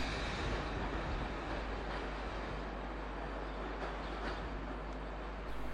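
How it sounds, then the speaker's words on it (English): A class 87 electric locomotive propels a rake of Mark III coaches at London Euston in the 1980s, a steady broad rolling roar of wheels on rail, fairly loud and continuous with no voices. "87016 Sir Francis Drake propels a rake of Mark III coaches from Euston down carriage sidings into the terminus."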